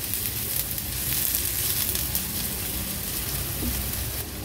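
Finely chopped medium onion sizzling steadily in hot oil over a low flame, a continuous close, dense crackle that holds even throughout with no talking.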